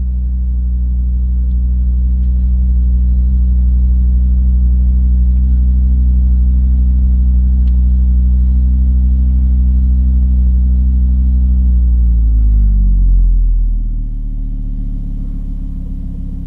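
Volvo V50 T5 engine just after a cold start, a deep steady high idle rumble holding strong for about thirteen seconds before the revs drop and the note settles lower and quieter.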